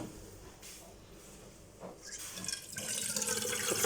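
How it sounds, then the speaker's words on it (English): Water runs from a tap and then pours into a cooking pot while preparing okra, starting as faint dripping and trickling and building into a louder, steady splashing fill, no talk. "Put some water, not so much, maybe just a quarter."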